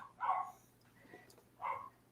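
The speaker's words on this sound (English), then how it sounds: "And there goes my dog." A dog barks twice at a distance, two short, moderately loud bursts about a second and a half apart, with no talking over them.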